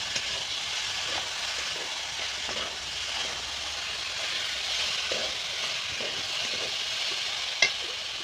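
Potatoes with salt and turmeric sizzle in a pan as a spatula stirs them, making a steady moderate hiss with soft scrapes and one sharp knock near the end, with no speech.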